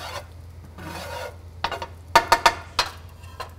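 Cooked rice is scraped and pushed across a Thermador electric griddle with a metal spatula, giving rasping strokes that end in a few sharp taps and clicks, close and fairly loud.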